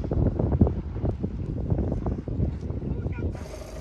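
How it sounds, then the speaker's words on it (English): A strong wind at a shoreline near a naval base buffets the microphone in a continuous rough roar, gusting unevenly throughout with a voice speaking over it. "There's a really strong wind."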